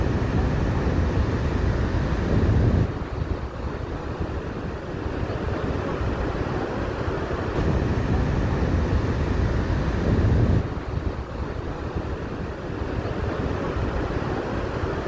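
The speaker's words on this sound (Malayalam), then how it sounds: "ഇനി മൊത്തത്തിലുള്ള രണ്ട് വാട്ടർഫാൾസും കൂടി കൂടിയ മൊത്തത്തിലുള്ള കാഴ്ച നമുക്കൊന്ന് കാണാം" Roar of two large waterfalls near a dargah in Mysore, heard as a loud, steady broadband rush of falling water with wind buffeting the microphone and no talking.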